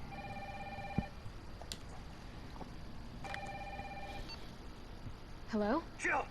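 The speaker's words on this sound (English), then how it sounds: "we do have a phone call" A telephone rings twice in Resident Evil 3, each a roughly one-second electronic trill with a pause between, followed by short rising beeps.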